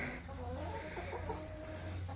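Chickens clucking faintly on a farm near a goat barn, soft intermittent calls over a steady low hum.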